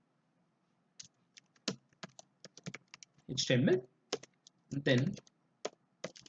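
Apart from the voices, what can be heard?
typing on a computer keyboard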